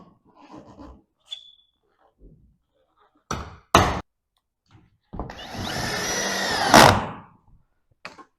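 A power drill drives self-tapping galvanized screws into the roof of a chicken coop tractor, with a few sharp knocks followed by a sustained, close whirring run that ends in a brief high squeal.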